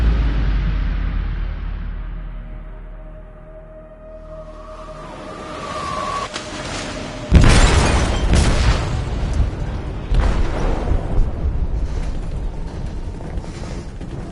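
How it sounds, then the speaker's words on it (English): Explosive detonating in a ship's hold in the video game Detroit: Become Human: a low rumble swells, then a loud boom hits and gives way to churning, crashing debris and rumbling that carries on to the end. "They detonated an explosive in the hold."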